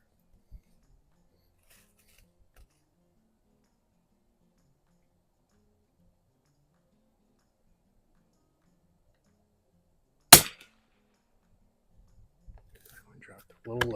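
A single sharp rifle report from an H&R M12 military trainer firing CCI pistol match rimfire ammunition at a range, loud and abrupt against near silence, followed by faint handling clicks.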